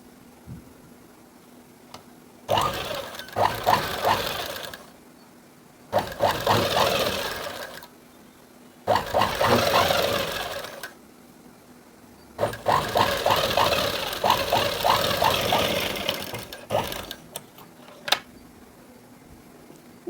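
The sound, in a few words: sewing machine stitching cloth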